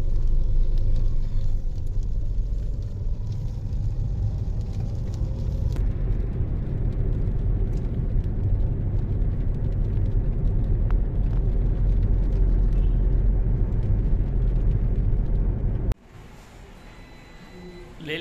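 A vehicle rolls slowly along a road, a steady close low rumble of engine and tyres that continues for most of the stretch before dropping off abruptly near the end, with voices intermittently audible over it.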